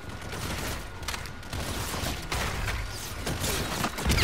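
Gunfire in the video game Call of Duty: Infinite Warfare: rapid, dense bursts of automatic shots crackle continuously at moderate loudness with no talking.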